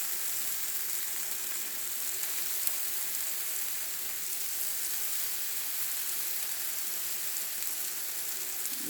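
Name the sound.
vegan birria tacos frying on a hot griddle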